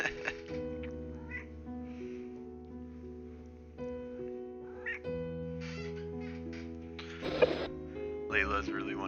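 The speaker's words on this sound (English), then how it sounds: "meowing at me." Layla, a pet cat, meows a few times, fairly close but faint, over sustained musical tones and a quiet background.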